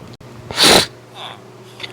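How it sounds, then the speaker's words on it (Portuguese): One loud, sharp human sneeze bursts out close by, brief and breathy, then fades into quiet room tone with a faint trailing breath. "Espirrar não é um bagulho extremamente específico."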